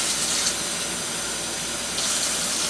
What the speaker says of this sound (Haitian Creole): je vais mettre 6 demi-tasses de l'eau dans le quinoa